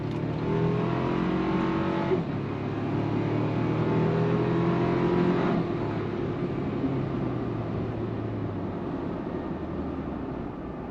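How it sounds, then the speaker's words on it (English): A new Toyota 4Runner pulls hard on throttle, its engine note climbing through gear changes with shifts around two and five seconds, then droning steadily from inside the cabin. "We're on throttle."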